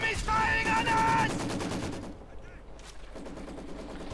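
Rapid gunfire from Company of Heroes 2 battle, machine-gun bursts rattling loudly at first, then fading into a lower, scattered background of distant shots and ambience.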